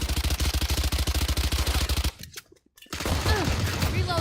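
Rapid automatic gunfire from the video game Valorant rattles in a fast, steady burst, cuts to near silence, then returns with scattered shots and softer clatter.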